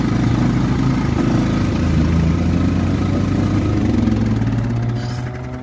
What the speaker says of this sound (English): Let's see if we can start this bad boy up. Put some choke on, Rich.